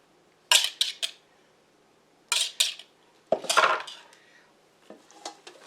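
An eggplant tomato pie dish clatters onto a metal cookie sheet with a few sharp clanks in separate bursts, close and fairly loud, with no talking.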